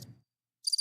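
A brief cricket chirp sound effect, a quick, high trill lasting a fraction of a second, comes after a short low murmur and a gap of silence.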